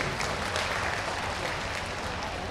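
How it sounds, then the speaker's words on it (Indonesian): Steady applause from a crowd at an Indonesian political campaign event, dense and continuous throughout, heard at a moderate distance without any talking over it. "tepuk tangan untuk beliau-beliau"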